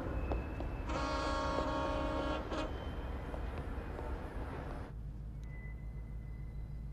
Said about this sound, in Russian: С запасного пути выводится дополнительный вагон.